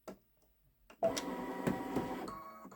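A Baby Lock Solaris Vision embroidery machine starts stitching a quilt pattern after a quiet moment, settling into a steady, close mechanical whir with rapid needle chatter.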